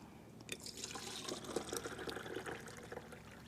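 Water sloshing and dripping as soaked tomatoes are lifted out of a bowl, soft close splashes and trickles at low volume.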